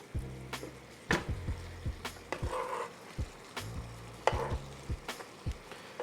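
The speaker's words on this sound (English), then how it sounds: "add the salmon back to the sauce. Let the salmon get nice and caramelized" Salmon bites caramelize in a honey garlic sauce in a hot pan. A steady close sizzle runs throughout, broken by scattered knocks and scrapes of stirring.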